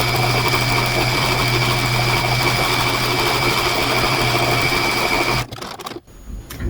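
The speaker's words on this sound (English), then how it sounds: "I'm sewing the interfacing to the block that we just built" A sewing machine stitches interfacing onto a quilt block for a snowman quilt, running at a steady, continuous whir close by for about five seconds before stopping abruptly, followed by a few faint handling noises.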